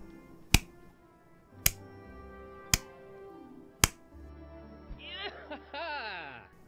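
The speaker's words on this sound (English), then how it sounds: "let me just put down my iPad and do that sarcastic clap" Four slow, sharp hand claps spaced about a second apart ring out crisply and alone, followed by a voice speaking.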